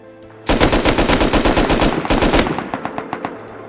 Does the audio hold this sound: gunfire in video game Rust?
yes